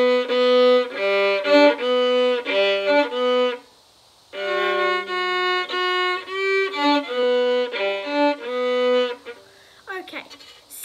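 Solo violin plays a melody as a run of bowed sustained notes with a steady rhythm, breaking off briefly near the middle before the melody resumes and fades into a short scrape at the end.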